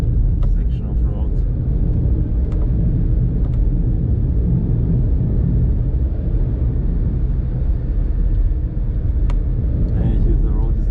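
Car cruising at about 60 on a curvy, picturesque German back road between Bad Tölz and München, a steady low engine and road rumble filling the cabin while someone talks over it.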